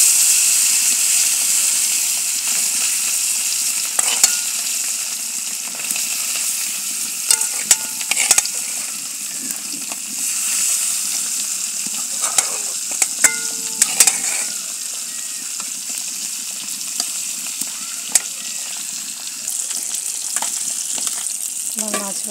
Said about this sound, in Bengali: আমার তেল গরম হয়ে গেলে আমি মাছগুলো কড়াইতে দিয়ে দিচ্ছি।